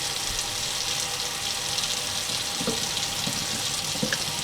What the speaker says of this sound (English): Gonna run cold water.